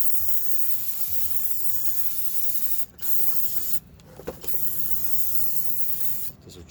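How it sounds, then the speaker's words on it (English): Brake cleaner is sprayed onto the front brakes of a 2016 Toyota Camry XSE, a steady close hiss in long bursts broken by a few brief pauses. "I'm going to hit it with some brake cleaner"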